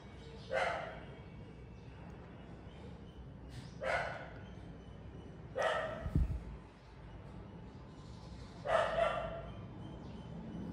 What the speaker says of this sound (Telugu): మా కుక్క అన్నిట్లో అరుస్తుంది